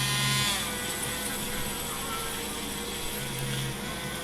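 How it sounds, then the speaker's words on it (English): A Dremel rotary tool with a brass wire wheel works over the body of a 1952 Chevy, giving a continuous high whine and scratchy buzz, close and steady throughout. "Now I'm using my Dremel with the brass wire wheel"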